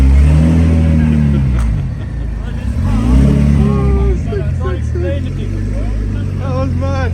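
A 900 BHP Porsche 991.2 convertible built for quarter-mile drag racing revs hard and loud, its engine roaring and swelling in repeated bursts, with excited voices talking over it.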